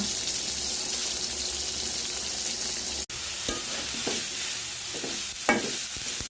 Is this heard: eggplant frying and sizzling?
yes